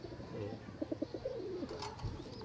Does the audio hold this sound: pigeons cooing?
yes